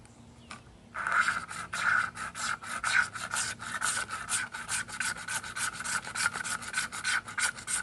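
A tool is scraped rapidly across a cheap magnesium fire starter block, giving close, loud, rhythmic rasping strokes that start after a brief quiet moment and keep going steadily.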